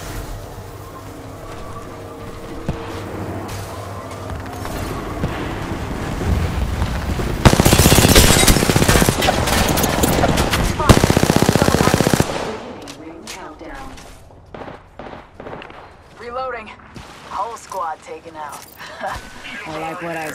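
Rapid automatic gunfire from the video game Apex Legends rattles in dense loud bursts, heaviest in the middle, mixed with game effects and character voice lines throughout.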